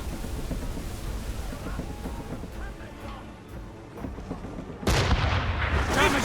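Ship cannons booming in Assassin's Creed Rogue during a naval battle at sea, low rumbling blasts over wind and water noise, ending with a louder broadband burst.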